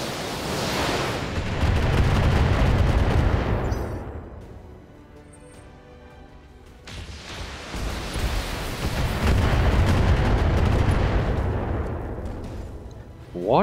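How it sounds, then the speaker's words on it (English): Mech weapons firing on a target in BattleTech, heavy booming volleys of cannon fire in two long roaring bursts separated by a quieter lull, loud and close. "Firing on target."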